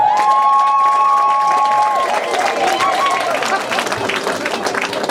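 A crowd at a graduation ceremony cheers and applauds loudly, a dense wash of clapping, whoops and raised voices that carries on for the whole stretch and fades slightly near the end.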